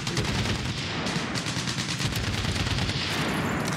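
Dense, continuous automatic gunfire in the shooter Medal of Honor: Warfighter, loud and close, a rapid unbroken rattle of shots filling the whole span.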